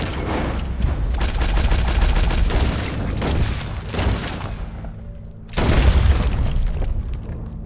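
Gunfire in Red Dead Redemption 2, a rapid run of loud, dense shots over a rumbling backdrop, with a short lull before another heavy burst near the end.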